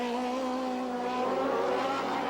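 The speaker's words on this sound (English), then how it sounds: "Smooth power slides out of all the corners." Formula Atlantic race car from 1977 power-sliding out of corners on a track, a steady loud engine drone with layered tonal harmonics holding throughout, rising slightly near the end.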